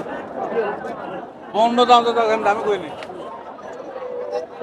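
Crowd chatter at a busy cattle market ahead of Qurbani in Dhap Sultanganj, Dupchanchia, a murmur of many voices with one nearer voice rising clearly above the hubbub for a couple of seconds.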